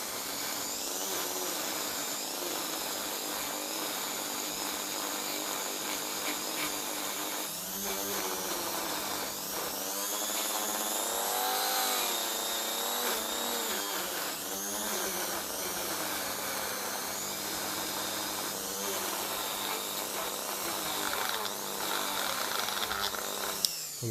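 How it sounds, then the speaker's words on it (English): A Dremel rotary tool with a bristle brush cleaning a Lucas starter from a 1953 Ferguson 20 Diesel tractor, a continuous high whine that rises and dips in pitch as it bears on the part, close and without speech. "hopefully get the Dremel just to softly clean it up to the point where it might just be able to work again"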